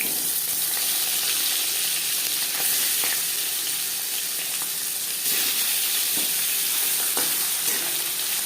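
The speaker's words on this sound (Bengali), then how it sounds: "মাছ আমি হালকা করে ভেজে নেব" Hilsa fish pieces shallow-frying in hot oil in a pan, a steady close sizzle throughout with occasional faint clinks.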